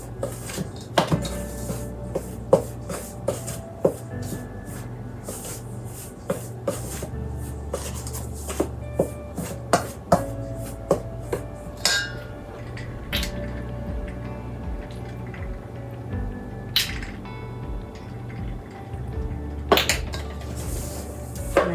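Pie crust dough being mixed with water in a bowl, repeated clinks and scrapes of a utensil against the bowl in an uneven rhythm, close and fairly loud, with no talking.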